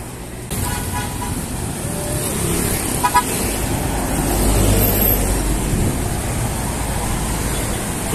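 Busy Cebu City traffic rumbles continuously while a jeepney or bus horn toots a couple of short, distant blasts above the road noise, with no talking heard.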